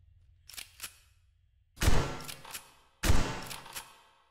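A shotgun in the shooter game Spaceman Labs Tactical Raid fires twice, each a loud booming blast with a short decaying tail, about a second apart, after two faint light clicks, with no talking.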